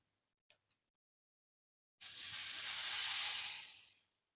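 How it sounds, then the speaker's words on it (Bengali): Lentil batter for a masoor dal omelette hits hot oil in a saucepan, bursting into a loud, bright sizzle that swells for about two seconds before fading, after a couple of faint clicks. "তেলটা গরম হয়ে গেছে এবার আমি ডালের মিশ্রণটা এখানে ঢেলে দেব"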